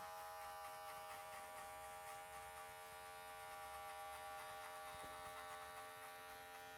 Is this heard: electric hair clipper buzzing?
yes